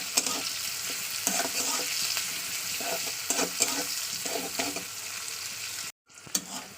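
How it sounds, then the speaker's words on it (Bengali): Chopped onion frying in a little hot oil for a chicken kosha with gondhoraj lemon juice, with steady sizzle and repeated scraping stirs of the spatula, close and fairly loud, cutting off briefly near the end. "এবার পেঁয়াজটা একটু লাল একটু ভাজা করে নিতে হবে"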